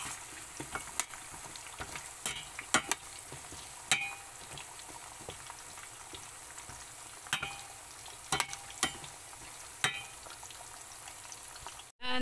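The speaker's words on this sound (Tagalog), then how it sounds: "Lutuin lang hanggang maluto ang kamote." Sweet potato (camote) cooking in a pan for camote cue, a soft steady sizzle of frying with scattered sharp pops and crackles spread through the clip, fairly quiet and without talk.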